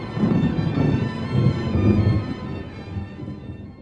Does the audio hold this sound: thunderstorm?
yes